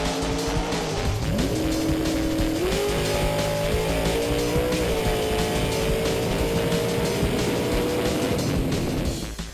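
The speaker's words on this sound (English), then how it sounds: "It's a three-seat dragster." A three-seat dragster race car roars on a drag strip, its engine note climbing in stepped gear changes into a loud, continuous high-revving drone that stays close and steady throughout.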